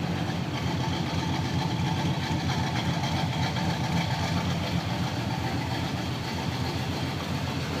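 A GTO car engine idles steadily at close range, a continuous low rumble with an even, throbbing texture and no talk over it.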